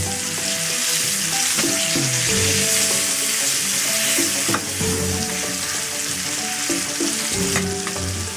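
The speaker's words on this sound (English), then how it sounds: "give them a little sizzle and brown them a little bit." Pig cheeks sizzle and spit steadily in olive oil in a frying pan, a dense, continuous crackle close up and loud, with occasional clinks and scraping of stirring, no voices.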